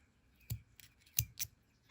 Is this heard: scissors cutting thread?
yes